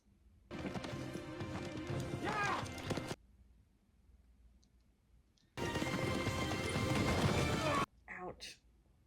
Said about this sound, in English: She stole a horse.